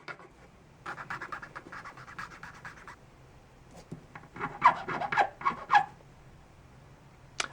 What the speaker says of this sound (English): You're just going to quickly sand off the pieces or the edges you just cut.